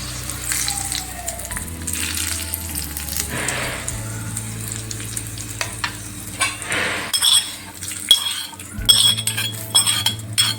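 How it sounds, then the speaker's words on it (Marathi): Hot curry leaf tempering poured into curd rice in a home kitchen, giving a steady low sizzle with bursts of crackle, broken by clinks of a metal spoon against a glass or steel bowl as it is stirred. "आता ही फोडणी जी आहे मस्त सुवास येतो बघा या फोडणीचा. आणि आपल्याला टाकायची आहे आपल्या राईसमध्ये."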